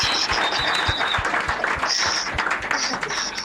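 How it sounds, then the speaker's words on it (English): Clapping from a studio audience on a Nigerian radio call-in programme, moderately loud and continuous, with rhythmic low thumps running beneath it and some high tonal whistles or ringing mixed in. "Make una clap for Farouk Mba."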